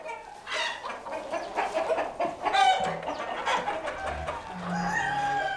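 Hens cluck in short, overlapping bursts, a busy flock close by, with a few higher calls rising above the chatter.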